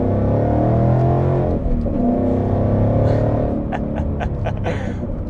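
A 750-horsepower supercharged car with a manual transmission accelerates hard, its engine note a loud, steady rumbling drone that dips briefly for a gear change and then climbs again, heard from inside.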